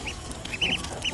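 Farmyard chickens and roosters, including Pakistani Aseel birds, cluck in short, scattered bursts at moderate distance over a soft outdoor background, with no one speaking.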